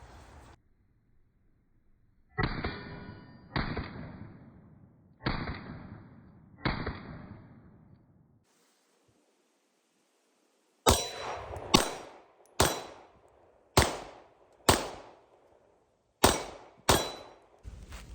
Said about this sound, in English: those are my first 50 rounds with the Springfield Prodigy